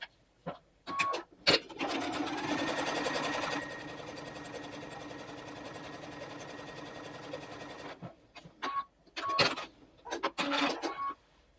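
A domestic sewing machine stitches quilt strips together in a steady, fast whirring run for several seconds, framed by clicks and handling noises of fabric and parts before and after, close up with no talk.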